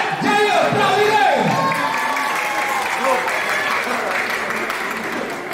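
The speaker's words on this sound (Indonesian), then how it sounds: "Kita berikan tepuk tangan" Audience applause at a pencak silat performance in Nagasepaha, loud continuous clapping mixed with cheering and whoops from the crowd, gradually easing off toward the end.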